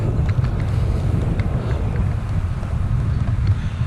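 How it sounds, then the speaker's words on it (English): Strong wind buffets the microphone of a cyclist near the Humber Bridge in a constant low roar, loud and close, with no voices. "Bloody windy though."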